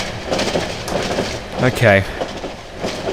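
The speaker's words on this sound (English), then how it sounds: "This is a really terrifying train trip." A train rolling on rails in the horror video game Cry of Fear, a continuous rumbling clatter with a brief screech partway through, under a voice speaking one word.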